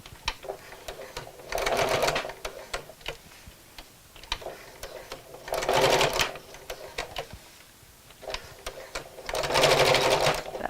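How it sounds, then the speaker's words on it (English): A sewing machine stitches a small box shape onto ribbon for a Christmas bag in three loud bursts of rapid mechanical whirring, separated by quieter pauses with soft ticks and clicks. "So I'm just going to sew a little box here right in the centre"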